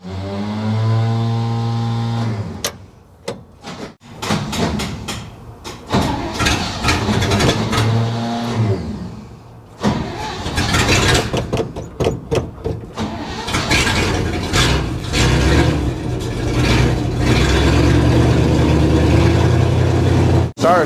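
An old abandoned Chevy mule hauler truck engine, revived after decades parked in the desert, cranks and catches, then runs loudly and close with repeated revs and uneven idle while the carburetor is adjusted and the starter solenoid is failing.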